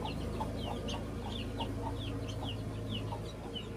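Guinea fowl clucking repeatedly at a farm, a steady series of short, sharp calls close by over a constant low background hum.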